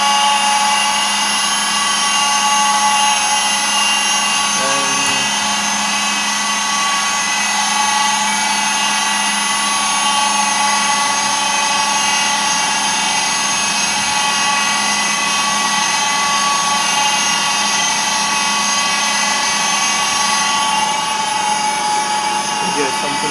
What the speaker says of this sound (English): the sound is not quite good during the machining. Firstly, the spindle bearing is not good. You can hear this.